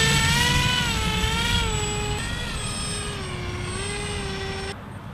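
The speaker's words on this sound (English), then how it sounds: "Listen to the motor working." A model airplane motor whines steadily, its pitch sliding up and down with the throttle while flying with air brakes out, loud and close with a rough rushing bed beneath, then cutting lower near the end.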